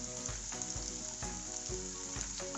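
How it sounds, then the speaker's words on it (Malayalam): Curry leaves and green chillies fry in a pan with a steady close sizzle, and soft stirring thumps recur about every half second. No one speaks. "എന്നിട്ട് നന്നായി ഒന്ന് വഴറ്റി കൊടുക്കുക."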